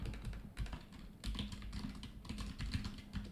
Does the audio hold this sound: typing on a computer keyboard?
yes